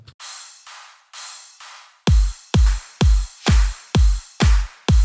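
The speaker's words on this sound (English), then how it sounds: "I added a on-beat clap and a crash cymbal." Electronic drum pattern for a dance-music drop: bright sustained crash-like hits, then six punchy low kicks with layered claps and crash cymbal striking on each beat, loud and steady with no voices.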